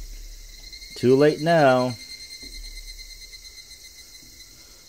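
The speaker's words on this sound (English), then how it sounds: "I'll listen to some nice cicadas" Cicadas from Higurashi When They Cry make a steady high, shimmering drone throughout, with a short spoken remark briefly over it.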